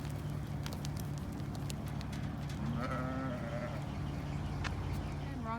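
Ewes bleating out in a pasture, several wavering calls from a few animals near and farther off, over a low steady background with a person talking at times.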